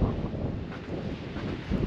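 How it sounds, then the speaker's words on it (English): A gale-force wind blasting across a bay at a coastal national park campsite, a loud, continuous roar buffeting the microphone with no speech. "it's blowing a gale."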